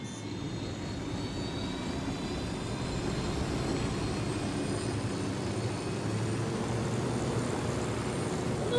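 Airplane engine in the video game Ghost Recon Wildlands, a steady, loud droning roar that holds evenly for the whole stretch with no talk over it.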